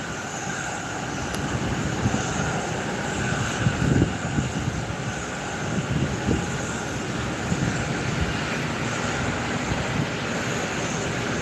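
An ATR 72-600 turboprop powers back off its stand with reverse thrust at Gran Canaria Airport, a loud, continuous roar and rumble that stays steady throughout with no voices.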